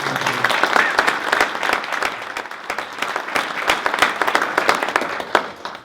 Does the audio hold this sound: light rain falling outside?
no